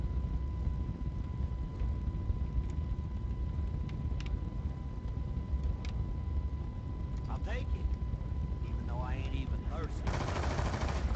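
A Cap 40 gun fires in a zombies video game, its shots faint and sparse under a constant game background with some voice sounds.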